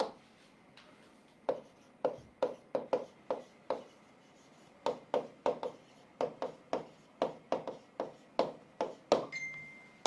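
Marker or chalk strokes on a board in a chemistry classroom, a long run of quick, close scratching taps in irregular bursts with a short pause near the start, no talking.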